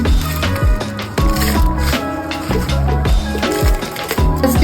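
A kitchen mixer grinder works through roasted coconut masala, heard as a close, loud, churning whir with rhythmic thumping and scraping pulses as the jar contents tumble, with no voices.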